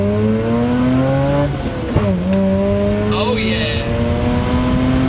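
Mazda RX-8 rotary engine revving hard in second gear, a loud, high climbing whine from inside the car that dips at a quick shift and then rises again, with a brief exclamation from the driver.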